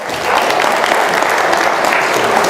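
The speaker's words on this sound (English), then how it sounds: "Give her a round of applause." A crowd applauds steadily and loudly, sustained clapping filling the whole stretch without a break.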